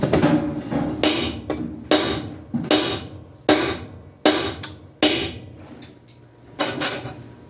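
A hammer strikes a cold chisel about ten times in an uneven rhythm, each blow a sharp metallic clang with a short ringing decay, close up and with no voices.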